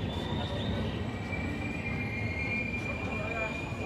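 Kamrup Express 15960 rumbling steadily along the track as it runs into Dhupguri, with continuous wheel and carriage noise and a faint high wheel squeal over the low roar.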